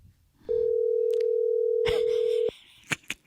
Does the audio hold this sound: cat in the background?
no